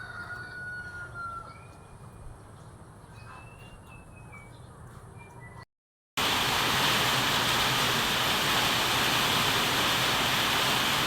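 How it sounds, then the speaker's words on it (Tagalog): Birds call over a quiet outdoor background, then after a short gap heavy rain pours down loudly in a dense, constant roar. "Lakas po ang ulan."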